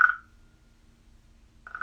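Frogs croaking in a short, bright burst of croaks at the start, followed by near silence, then a fresh round of croaking rising at the end.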